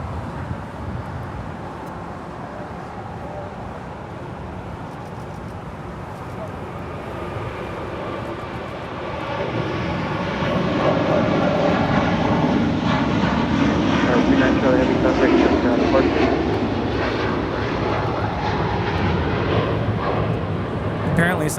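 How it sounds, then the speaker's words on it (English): Qatar Airways Airbus A350-1000 airliner departing, its jet roar swelling from a steady rumble to a louder, sustained thrust midway through, with people talking over it. "This is Qatar Airways Flight 740 departing to Doha on an A350-1000."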